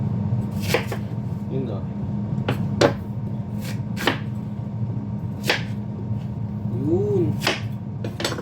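Knife chopping food into small pieces on a board in a home kitchen, several sharp separate strikes at irregular intervals over a steady low hum, with brief quiet speech between the cuts.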